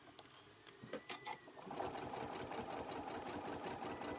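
A sewing machine stitches quilt binding with a stitch-in-the-ditch foot, starting with a few separate clicks and thumps as single stitches are taken, then settling into a steady close whirring run.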